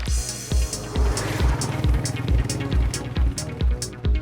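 An electric-converted Royal Enfield Classic 350 Bullet motorcycle pulls away with a steady, rhythmic low throbbing, roughly two pulses a second, layered with a humming whine. It stays loud and close, with no speech.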